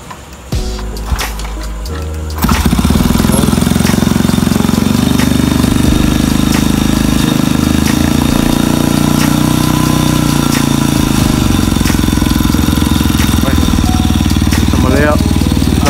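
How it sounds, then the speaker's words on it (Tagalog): A Honda Bravo motorcycle engine starts up and settles into a loud, steady idle close by, running throughout with a faint background hiss. "So, ito yung ano, Honda Bravo ni Sir Jerome."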